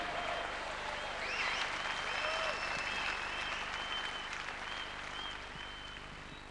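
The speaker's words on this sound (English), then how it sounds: "Can you please give them a round of applause?" Conference audience applause fills a hall with a dense, even wash of many hands clapping at a moderate distance, steady for several seconds before tapering slightly, with faint whistles or voices mixed in.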